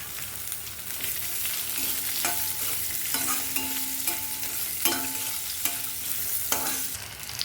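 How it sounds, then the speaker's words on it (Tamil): Grated coconut and green chillies sautéing on a slow flame for mint coconut chutney: a continuous soft sizzle broken by repeated scraping strokes of a spatula against the pan, close and steady, no talking. "தேங்காய் சேர்த்து ஸ்லோ ஃப்ளேமில் ஒரு 5 நிமிஷம் வதக்கலாம்"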